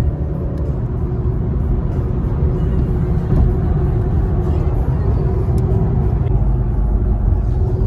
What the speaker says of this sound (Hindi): आज हम आ रखे हैं BMW की टेस्ट ड्राइव लेने के लिए